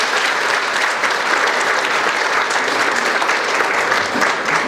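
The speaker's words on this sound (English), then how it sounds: "But let's give them a round of applause." Loud, sustained applause fills a baseball banquet hall, many hands clapping in a dense, even wash that holds steady from start to finish with no voices on top.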